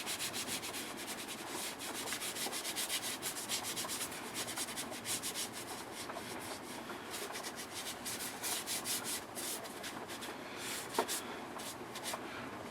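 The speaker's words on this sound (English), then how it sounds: "Just rub it in." Rapid, close rubbing and scuffing as Froglube is worked by hand into a Ruger 10/22 rifle receiver, a continuous dry friction sound with uneven strokes.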